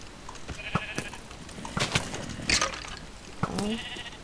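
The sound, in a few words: sheep bleating in Minecraft video game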